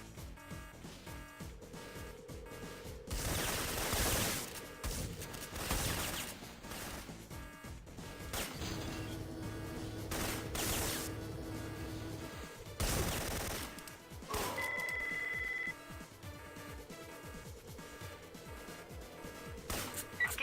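Gunfire erupts in Syphon Filter on the PS1 in several loud, crackling bursts over a droning game soundtrack, with pauses between volleys.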